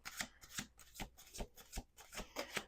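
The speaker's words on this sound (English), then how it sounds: "Last shuffle." Tarot cards shuffled by hand, a quick run of close, crisp riffling flutters in an uneven rhythm, quiet and alone with no talking.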